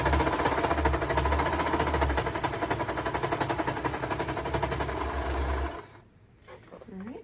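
A sewing machine stitching T-shirt sleeves runs in a fast, loud, steady rattle for nearly six seconds, then stops, leaving faint handling noise.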